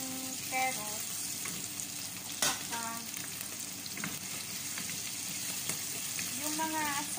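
Carrots and potatoes sautéing in a pan for beef caldereta, giving a continuous crackling sizzle with stirring clinks, while a voice talks intermittently over the cooking.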